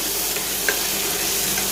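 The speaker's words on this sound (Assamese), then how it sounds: "আদা নহৰু জলকীয়া পেষ্টখিনি দি দিছো আৰু এইখিনি মই ৰঙচুৱা হোৱালৈকে ভালকৈ মই এইখিনি ভাজি লওঁ" Onion, ginger, garlic and chili paste frying in a pan for an Assamese duck curry, a steady close sizzle with faint stirring, no voices.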